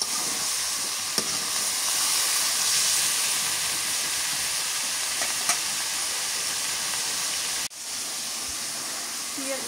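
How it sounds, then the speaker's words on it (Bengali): Bitter gourd (kakrol) frying in oil in a pan in a village kitchen, a steady close sizzle and hiss with a brief clatter near the end. "কাঁকরোলটা তেলানিতে একটু ভেজে নিই, তারপর হলুদ দিলাম"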